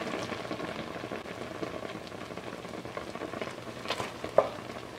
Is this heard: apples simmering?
yes